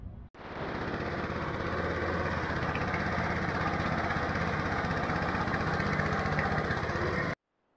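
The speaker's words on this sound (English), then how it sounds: "Dropped the good old Mowmaster down 3 mils, and we're taking the first cut around." Mowmaster cylinder lawn mower lowered 3 mm, cutting Santa Ana couch (Bermuda) grass on a spring renovation in Perth; a close, loud, steady engine drone with rapid reel chatter runs unbroken for about seven seconds, then stops abruptly.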